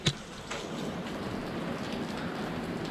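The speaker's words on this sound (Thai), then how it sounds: "ฝนตลอดทริปเลย" Rain falling steadily on a wet road during a Honda CB650F motorcycle trip: a continuous soft, broadband hiss at moderate level, opened by one brief sharp tap, with no voices.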